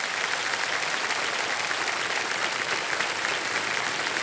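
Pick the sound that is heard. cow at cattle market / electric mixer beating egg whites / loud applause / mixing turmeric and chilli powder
loud applause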